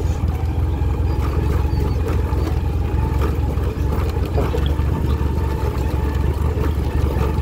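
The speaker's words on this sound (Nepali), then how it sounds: "यो ट्र्याक्टर कुदेको, यो गाडी कुदेको" A tractor or pickup engine rumbles steadily and continuously on a rural road, a low droning hum that holds at an even loudness with no clear rise or fade.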